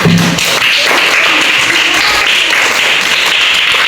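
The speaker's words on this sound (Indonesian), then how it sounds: "kita tepuk tangan" A group of children clapping hands together in a classroom lesson, a loud, dense and steady stretch of clapping close by, with a brief voice at the very start.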